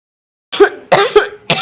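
Sharp coughs and throat clearing close to the microphone, three or four rough bursts in quick succession after a brief silence.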